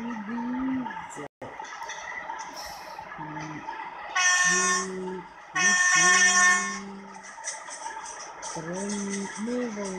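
A diesel train sounds its horn in several sustained blasts with steady harmonic tones, mixed with short high-pitched tooting and mechanical noise, fairly loud and close.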